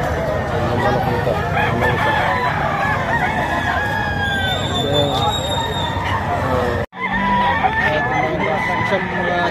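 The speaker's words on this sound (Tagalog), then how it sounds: "Ganda manok" Roosters crow repeatedly amid clucking chickens at a livestock auction market in Lipa, Batangas, with people talking over the barnyard noise throughout.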